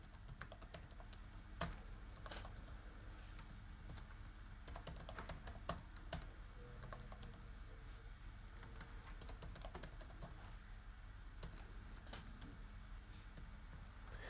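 A password is typed on a computer keyboard, a very faint run of quick key clicks with a few louder taps, heard alone against a low background hum.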